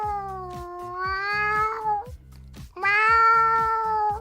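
A person mimics a cat with two long, wavering meows separated by a short pause, loud and close, with faint background chatter beneath.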